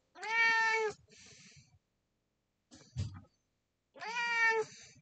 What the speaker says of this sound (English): A very chatty cat.